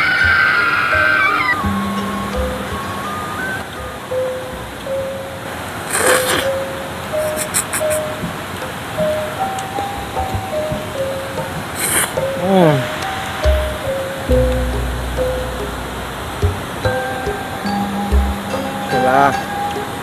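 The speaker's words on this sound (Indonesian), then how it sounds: "Suara alam dari air terjun menambah rasa kenikmatan." Steady rushing water from a waterfall and river fills the background as a continuous broadband wash, with talk and occasional clinks over it outdoors by the stream.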